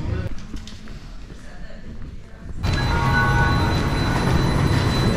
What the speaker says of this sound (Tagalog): So ito na ang train.